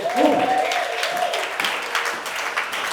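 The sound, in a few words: congregation applauding the Lord in church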